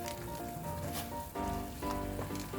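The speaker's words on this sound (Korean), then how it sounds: "이렇게 물이 끓어오르기 시작하면 면을 넣습니다" Water boiling in a pot for Chapaguri ramen noodles: a steady bubbling, sizzling hiss close by, swelling slightly in two surges, with no talk.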